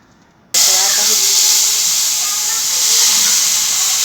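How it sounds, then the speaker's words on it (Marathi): Hot milk poured into roasted, reddish-brown vermicelli for kheer sets off a sudden loud, steady steamy hiss and sizzle about half a second in, lasting to the end, with faint speech underneath. "आता याच्यामध्ये आपण गरम केलेलं दूध टाकूया।"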